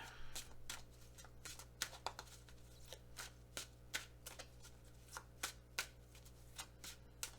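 A deck of Archangel oracle cards is shuffled by hand nearby, giving a steady series of soft, crisp flicks and taps over a low constant hum, with no talk.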